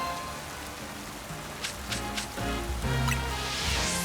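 Steady rain falling in the Pokemon Legends Z-A video game, a continuous soft patter of drops on surfaces that swells slightly louder toward the end, with a few brighter in-game effect tones layered over it and no talking.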